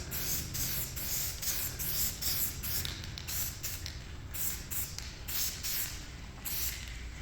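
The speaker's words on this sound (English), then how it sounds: "We're going to apply one more coat, another light coat of green to this" An aerosol can lays a light coat of green paint onto a sawhorse in a series of short, hissing spray bursts, steady and close.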